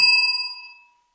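A single small bell rings once with a bright, clear ding, its tone slowly fading away over about a second.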